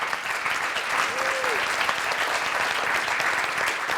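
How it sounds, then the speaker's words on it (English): Steady applause from an audience at a child care business forum, a dense even patter of clapping hands filling the room with no talk over it. "can I have a round of applause for the people who are working here?"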